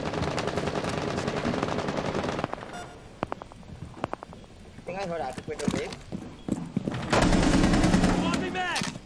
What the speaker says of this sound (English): I heard shots outside.